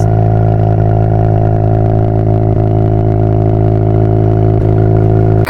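A Mazda RX-7 rotary engine fitted with an S5 turbo runs loud and close at a steady, smooth idle, its deep humming drone holding even throughout with no voices.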